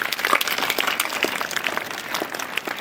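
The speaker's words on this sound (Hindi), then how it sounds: "जोरदार तालियां इनके लिए।" Audience applause at an award ceremony honouring participants, a fairly close, loose patter of individual claps that thins slightly toward the end.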